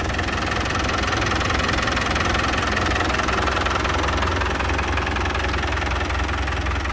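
A Land Rover Defender 110 Classic's turbocharged 2.5-liter TDI diesel engine idles steadily and close by, a dense continuous clatter and rumble with a slight knocking texture, running alone without speech for about seven seconds.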